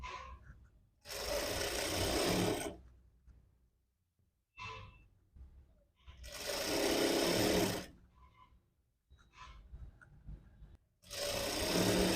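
Sewing machine stitching the hem of a readymade nightie in three long runs of rapid, even whirring, close up, separated by quiet pauses with faint handling clicks and no talking.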